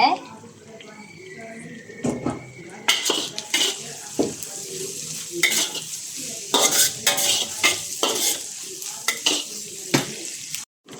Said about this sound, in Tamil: இடித்து வச்ச இஞ்சி பூண்டையும் சேர்த்துக்கலாம். போட்டு நல்லா எண்ணெயில் வதக்குங்க.